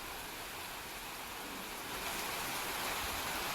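Heavy rain falling steadily in Muzaffarpur, Bihar, a dense continuous hiss of downpour that swells slightly louder toward the end, with no voices.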